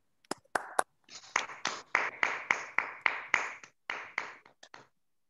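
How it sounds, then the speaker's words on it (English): A small meeting audience claps, with a few separate claps and then a short burst of steady applause before it fades out. "let me have a huge round of applause for this man, Ralph C. Smedley."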